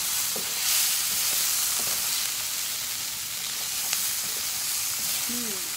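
Food frying in a pan on a home stove, a continuous sizzling hiss with occasional stirring scrapes and brief faint sounds, quiet and steady.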